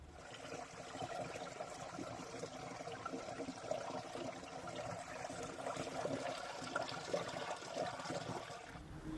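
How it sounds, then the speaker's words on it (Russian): Tiny forest stream by an old fallen birch, a faint, steady trickle and gurgle of water running continuously in a quiet woodland setting. "мне приглянулся крохотный ручей со старой поваленной березой"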